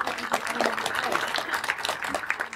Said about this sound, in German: Ein Applaus für die Händler, die das hier mit glücklich gemacht haben.